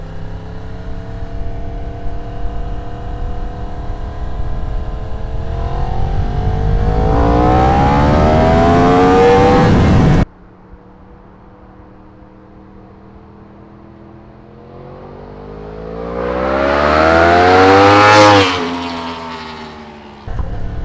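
Yamaha R1 sport motorcycle accelerating hard in second gear from a 60 km/h roll-on during a wheelie-control test, engine note climbing loud and close in two separate surging runs with a sharp cut between them.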